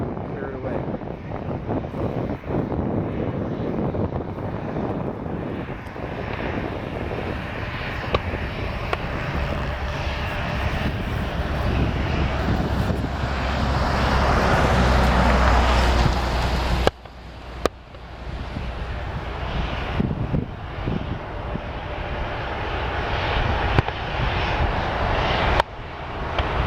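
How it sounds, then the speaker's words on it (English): A distant airliner departing from Portland gives a broad, steady engine roar that swells gradually amid wind noise, with a person talking over part of it. "Out in the distance, an Ameri flight just departed."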